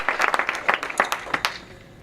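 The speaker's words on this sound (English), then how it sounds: "A nice round of applause for Ed Astor" Brief burst of audience clapping at the 2016 LIIFE Awards ceremony, lively at first and then thinning out and fading within about two seconds.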